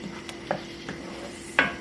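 Coconut chicken curry is stirred in a pan, a soft simmering sizzle with a few distinct spoon clinks against the metal, close and without talk.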